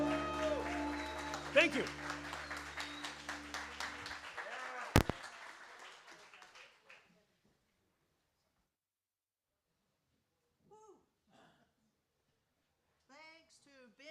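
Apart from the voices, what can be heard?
audience applause for speaker Ben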